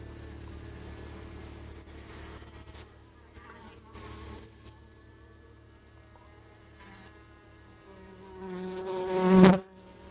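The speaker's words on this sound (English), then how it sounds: "So there's the bees." Honey bees from a late-summer swarm hum steadily at close range, with a louder buzz swelling up near the end as one passes close.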